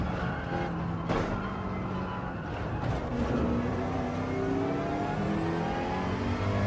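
Race car engines in the video game Gran Turismo 7 during an online race, a steady high whine with rising and shifting pitch as cars run close together, continuous and fairly loud.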